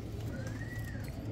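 Pigeons kept by a fancier in South Asia give low, soft coos under a steady background hum, with a faint thin whistle passing over them. No voices are heard.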